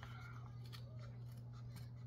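Quiet snips of large, razor-sharp Guggenheim scissors cutting through applique material, a few soft crisp cuts over a low steady hum.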